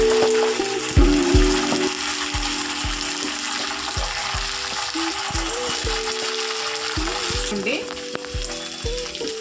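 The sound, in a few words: ginger paste and onions frying in a pan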